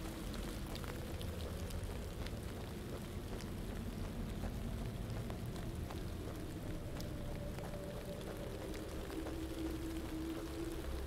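Rain falling in a video game, a soft, steady hiss of drops with occasional faint patters, continuous and quiet throughout with no talking.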